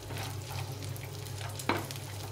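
Raisins frying in ghee in a pan, a soft steady sizzle close by with a single sharp stir or clink partway through, no voices.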